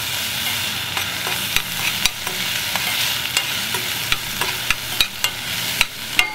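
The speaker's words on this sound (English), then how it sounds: "We're gonna get these onions sauteed." Onions and serrano pepper sauté in a pan with a steady sizzle and frying hiss, broken by sharp, repeated scrapes and taps of a utensil stirring against the pan.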